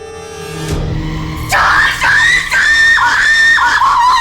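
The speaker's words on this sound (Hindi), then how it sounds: "ये चीखा कौन?" A person lets out a loud, piercing scream at night that rises and holds with wavering pitch for several seconds, close and alone after a brief low rumble.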